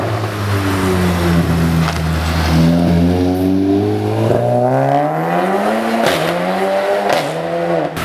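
A turbocharged yellow Citroën DS3 revs hard nearby, its engine note climbing and falling in loud, sustained sweeps with brief dips between throttle blips, with no talk over it.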